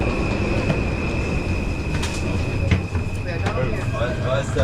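Dutch passenger train travelling from Eindhoven to Rotterdam, with a steady loud interior rumble, rail clatter and a faint high tone, plus occasional clicks and muffled voices in the carriage throughout.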